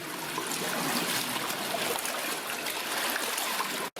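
Water draining out of an old copper mine, a loud, steady rushing stream close by that fills the whole clip, then cuts off abruptly just before the end.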